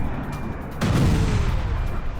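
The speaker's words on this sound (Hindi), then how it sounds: "मिसाइल हमले से ऑयल डिपो में धमाका हुआ है" Missile strike on a Russian oil depot in news footage: a sudden heavy blast bursts out of a noisy background and rumbles on loudly for over a second.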